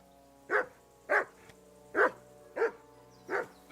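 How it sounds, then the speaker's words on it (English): A dog in Kingdom Come: Deliverance 2 barks six times at a steady, roughly half-second rhythm, close and clear over a faint background hum, with no talking. "Call off that mutt of yours"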